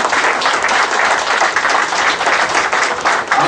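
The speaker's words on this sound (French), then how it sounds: "Je vous prie d'applaudir." An audience at a Lions club ceremony in Tshilombo applauds steadily, a thick crackle of many hands clapping close and loud with slight swells, without pause.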